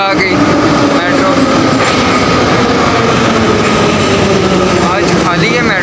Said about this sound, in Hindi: तो ये आ गई मेट्रो.